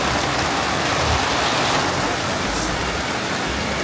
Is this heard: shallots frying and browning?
no